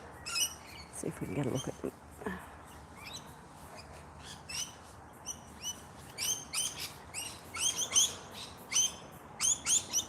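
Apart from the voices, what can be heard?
lorikeets calling in flowering trees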